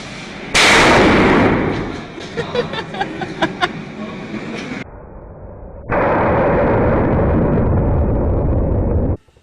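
A small explosion goes off as a sharp loud boom, followed by a rumbling, crackling burst with scattered pops, then a second sustained roaring blast that cuts off abruptly; close and loud, no talking.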